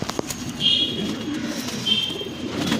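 A Jiriya pigeon coos in soft, low, drawn-out murmurs, with a couple of faint high tones over a steady background hum and no voices.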